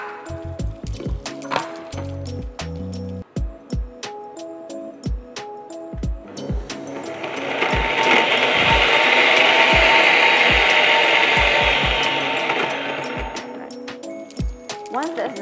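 Garlic and ginger are chopped quickly with a knife on a board for butter chicken, a string of sharp, close knocks in an irregular rhythm. A voice is heard early on, and a broad hiss swells up and fades in the middle.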